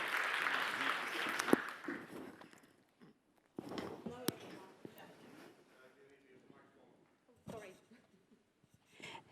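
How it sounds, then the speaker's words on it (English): Applause from an audience at a closing event for a Finnish national design programme, a moderate burst that fades within two seconds, followed by quieter scattered sounds and talking as the speaker reaches the stage. "Let's give her a big round of applause."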